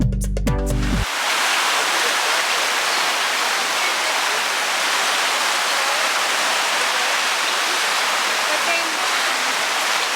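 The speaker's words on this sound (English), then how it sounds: "But now the creek flows through here." Creek flowing near Beechworth, a steady loud rush of water filling the whole stretch after a brief opening burst of sound.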